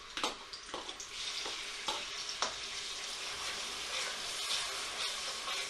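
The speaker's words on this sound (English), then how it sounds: "When the oil is hot, I'm going to put it in. It's going to sizzle." Onion hits hot oil for a chicken pathia and sizzles loudly up close, a dense crackling hiss with several sharp scraping stirs near the start that settles into an even fry.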